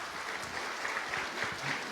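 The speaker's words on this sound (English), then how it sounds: "a round of applause" An audience at the Drukyul Literary Festival in Bhutan applauds, a short, dense burst of clapping that stays steady throughout.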